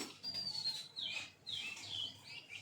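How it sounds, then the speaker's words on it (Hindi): A red-vented bulbul calls outdoors with clear, bright whistled chirps, two or three short rising and falling phrases repeated over a couple of seconds at moderate distance, with no talking. "ये बुलबुल का आवाज़ है?"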